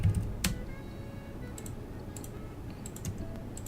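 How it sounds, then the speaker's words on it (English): Computer keyboard keys tapped while drawing a door in AutoCAD, a quick run of light clicks and a sharper spacebar press, close and fairly quiet with no talking. "Do you hear the rhythm of your keyboard?"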